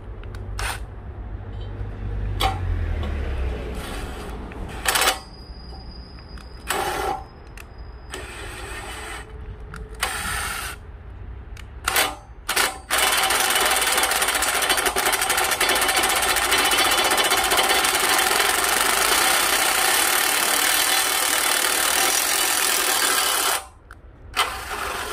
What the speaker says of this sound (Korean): 6mm 탭을 이제 구멍을 뚫어주고